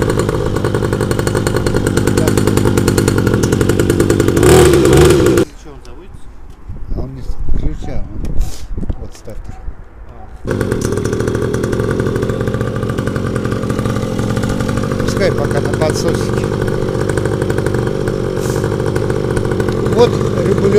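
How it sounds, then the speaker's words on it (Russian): A children's 49cc petrol Mowgli X16 ATV engine runs with a harsh, buzzing, chainsaw-like drone that drops away for a few seconds in the middle and then returns, while people talk nearby. "Ну, заводит он так, как бензопила."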